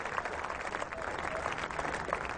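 Cricket crowd at a 1996 England versus India Test match applauding Sachin Tendulkar, a steady, dense wash of clapping from a large crowd with a faint murmur of voices beneath.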